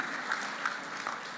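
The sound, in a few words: audience applause for God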